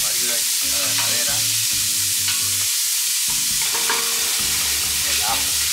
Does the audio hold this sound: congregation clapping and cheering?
no